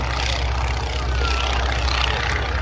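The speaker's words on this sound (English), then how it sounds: "Look at how close to the ground that airplane is." A Stearman biplane passes low over the ground at an airshow, its radial engine and propeller giving a loud, continuous rumbling drone throughout.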